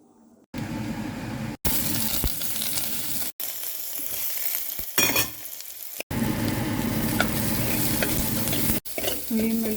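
Onion, garlic and green chilli sautéing in a pan for a home-cooked curry, with a continuous close sizzle, stirring scrapes and a few brief breaks in the sound.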